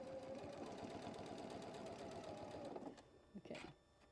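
A sewing machine stitching a quilt block runs in a fast, steady mechanical whir with rapid needle clatter, close and loud, before stopping abruptly with a few faint clicks and a short vocal sound.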